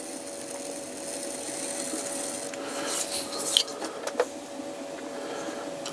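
Trimming tool scraping a thin clay coffee cup on a spinning potter's wheel, a quiet steady rasping hiss with a few sharper scratches partway through, close and alone.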